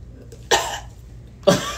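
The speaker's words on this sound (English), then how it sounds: "I need to cough." A person coughs twice at close range, two abrupt, rough bursts about a second apart against a quiet room.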